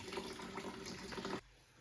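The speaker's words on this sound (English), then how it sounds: "So you're emptying water from the boiler," Water draining out of a household boiler, a close, steady gushing flow that stops abruptly near the end and leaves quiet.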